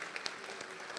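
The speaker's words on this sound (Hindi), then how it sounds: "एक बार तालियां बजा के मुझे एहसास दिलाइए" A mushaira audience in Dubai applauds, a brief, dense wash of many hands clapping at moderate distance.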